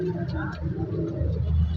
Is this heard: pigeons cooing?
yes